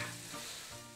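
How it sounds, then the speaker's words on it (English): Mushrooms and onion frying in a pan, a steady close sizzle running continuously without pause, no voices over it. "separately frying some mushrooms and onion"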